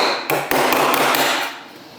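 A hammer gives a quick series of about six light, close taps, sharp and evenly spaced, during metalwork on a Frogeye car restoration. The taps then fade into a short ringing decay.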